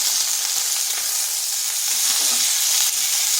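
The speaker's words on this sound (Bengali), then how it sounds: "খুব বেশি ভাজবো না, যাতে সিমের কাঁচা গন্ধটা চলে যায়, তাই হালকা একটু ভেজে নিচ্ছি" Flat beans (sheem) frying lightly in a pan for a vegetarian dish, salted and dusted with turmeric, give a steady, even sizzle that fills the whole stretch, close and fairly loud, with a few faint scraping stirs and no voices.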